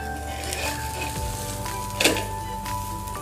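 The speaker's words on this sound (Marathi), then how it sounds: "हे दोन्ही साईडून छान क्रिस्पी असं थोडंसं भाजून घेऊन" A pearl millet pancake crisps in a pan with a continuous, even sizzle up close, broken by a faint clink or scrape partway through, with no talking.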